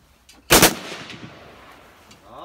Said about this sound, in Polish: dubleta pan strzelił